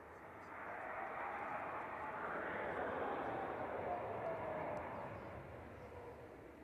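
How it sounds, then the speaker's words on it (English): An Aegean Airlines Airbus A320neo arriving from Athens approaches Manchester Airport, its engines a faint, smooth whooshing roar that swells and then fades slightly as it passes at a distance. "Aegean 638 from Athens coming in next, SX NEM A320 Neo."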